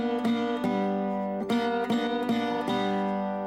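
Guitar notes picked in a steady rhythm, a fretted note ringing together with an open string for a slightly clashing, buzzy sound, repeated several times.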